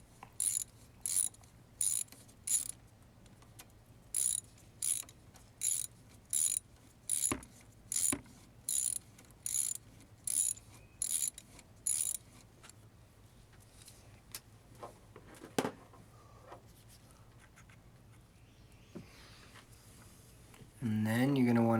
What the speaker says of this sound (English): just get your socket wrench and start to tighten them all back into place